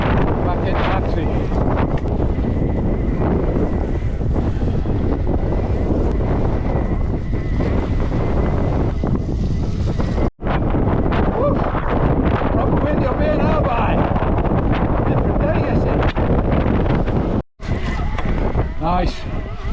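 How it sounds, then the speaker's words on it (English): Strong wind roaring and buffeting the microphone on an exposed fell walk, loud and continuous for nearly the whole stretch, with two brief dropouts and heavy rumble throughout. "Got the wind behind us a little bit now."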